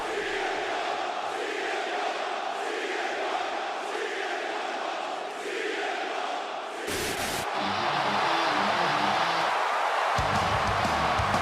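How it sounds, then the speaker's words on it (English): A Chicago crowd at a WWE wrestling event roars and chants loudly and steadily, the dense wall of voices surging and shifting character partway through, with heavier, more forceful chanting toward the end. "The chants rise again."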